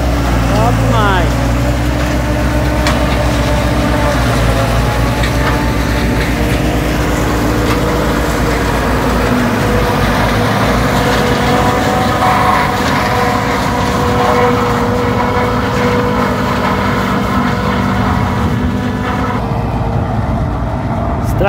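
Massey Ferguson 4292 and 4275 tractors work a forage harvester chopping corn for silage, a loud continuous engine roar and mechanical rumble up close, with someone speaking over the noise.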